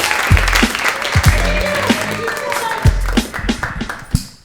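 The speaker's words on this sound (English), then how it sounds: "Put your hands together for Amanda Slater!" Comedy club audience clapping for a comedian coming to the stage, loud close applause with sharp individual claps and some crowd noise throughout.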